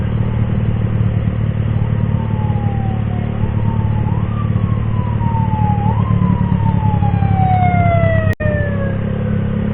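A wailing emergency siren rises and falls repeatedly over a loud rumbling engine, close by, with no talking.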